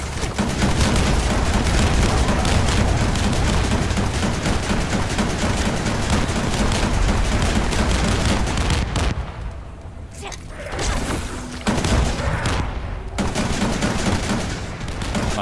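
Sustained gunfire and booming shots from a sniper fight in the video game The First Descendant, loud and dense for most of the stretch, briefly thinning before resuming, with voices speaking under it.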